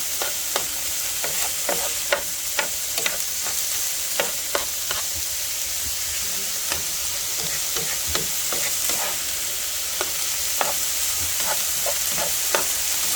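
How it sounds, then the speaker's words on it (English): Garlic being stirred into a pot of chicken and sausage gumbo over medium-high heat: a steady, close sizzle with a quick series of sharp spoon scrapes and clicks against the pot throughout, and no talking. "You can throw the garlic in there. Mix that up in there with it."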